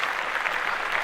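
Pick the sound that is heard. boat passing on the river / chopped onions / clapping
clapping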